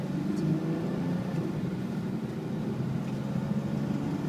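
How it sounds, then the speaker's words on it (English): A 2000 Toyota 4Runner SR5 with its V6 engine drives and gently accelerates through a residential neighborhood, heard from inside as a steady, moderate low rumble and hum with no talking. "I'm not like pounding on the gas right now because I'm in a residential neighborhood, but this thing runs great."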